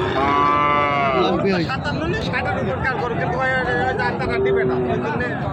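A young Sahiwal bull calf moos loudly and close at a busy cattle market, its drawn-out calls rising over a steady babble of crowd chatter and nearby voices.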